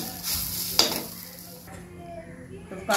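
A papad omelette mixture with curry leaves sizzles in a pan as a utensil stirs and scrapes against the metal, with a sharp clink near the start and soft frying underneath.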